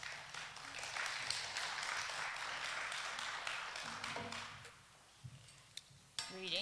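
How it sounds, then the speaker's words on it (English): An audience claps for a speaker at a talk on the history of voting rights. The applause is faint and sustained for several seconds, then thins out into scattered claps and small room noises. "Give her a warm round of applause."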